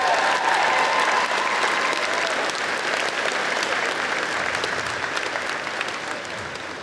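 A graduation audience at a tech school ceremony applauds steadily, a dense wash of many hands clapping that holds loud and even throughout, tapering slightly near the end.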